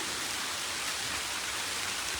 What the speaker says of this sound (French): Puis il pleut assez fort